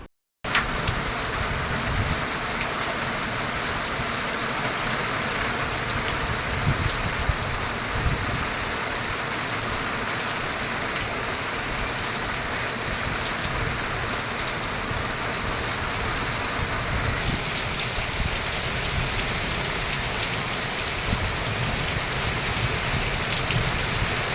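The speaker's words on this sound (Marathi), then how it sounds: "विजेंच्या कडकडाटासह वादळी वाऱ्यासह अवकाळी पाऊस सुरू झाला" Unseasonal rain pours steadily for nearly half a minute, a dense even hiss of drops on surfaces in stormy weather, with faint low rumbles underneath.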